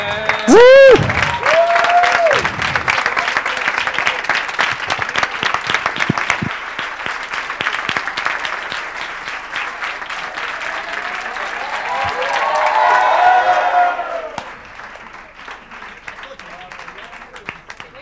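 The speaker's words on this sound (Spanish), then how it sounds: "un aplauso bien fuerte a los voluntarios" Loud, sustained crowd applause for the volunteers at the closing of a festival gathering, dense clapping mixed with cheers and voices that swells near the end and then thins out.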